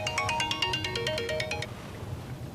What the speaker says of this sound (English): I keep getting phone calls here recently.